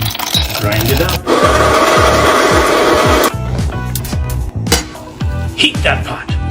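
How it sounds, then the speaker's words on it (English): A coffee grinder crunches melange with grain and beans in a loud steady burst of about two seconds, then fainter rhythmic scraping and rattling. "Melange. With grain and beans. Grind it up."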